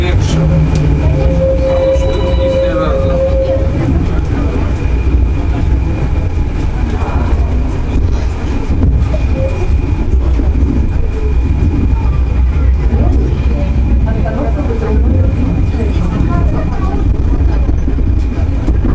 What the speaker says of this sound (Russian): Настал момент нам прокатиться на этом прекрасном трамвае